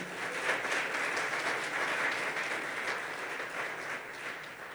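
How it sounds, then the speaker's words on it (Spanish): A church congregation applauds during a Spanish-language celebration service, a steady, even wash of many hands clapping that carries on without a break. "Aplaude la gloria del Señor."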